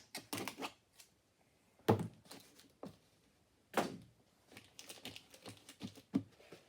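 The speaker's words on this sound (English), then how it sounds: "So I'll tape that into place so it can't move." Tape being pulled and pressed to hold plywood in place inside a concrete pot form, heard as a few sharp, close taps and thuds separated by quiet gaps.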